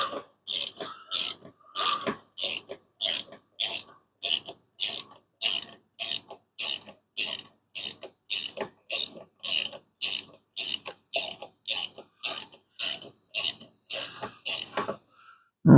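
Ratchet with a 12 millimeter socket tightening a bolt on a Plymouth Hemi Duster build, a steady series of about two dozen crisp clicking strokes, close and regular with no talk.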